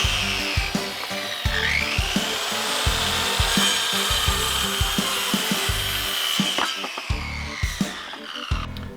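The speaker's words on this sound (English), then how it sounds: "the next thing we're going to do is cut our legs from our 2x4s here" Hand saw cutting through 2x4 lumber to make table legs, a steady back-and-forth rasp of wooden strokes, close and loud, running nearly the whole time with a short pause near the end.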